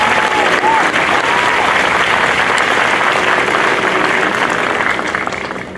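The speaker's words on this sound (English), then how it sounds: "if we could give them another round of applause for their efforts" An audience at a 2017 high school graduation ceremony in New Milford gives loud, continuous applause, with a dense wash of clapping from a large crowd that tapers off slightly near the end.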